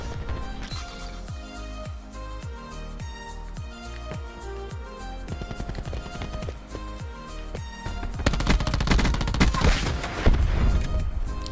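Rapid bursts of light machine gun fire ring out in a Black Ops 4 multiplayer match, a dense run of shots that grows heavier and louder near the end, with explosion-like booms mixed in.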